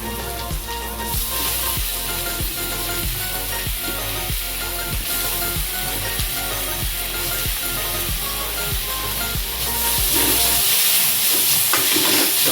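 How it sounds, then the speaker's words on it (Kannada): Onions and tomatoes frying in a pan for a quick curd tadka, with a steady loud sizzle broken by regular scraping stir strokes about twice a second, close up and with no talking. "ಟೊಮೆಟೊನ ಹಾಕೊಂಡು ಒಂದು ಲೆವೆಲ್ಗೆ ಫ್ರೈ ಮಾಡ್ಕೊಳ್ಳಿ"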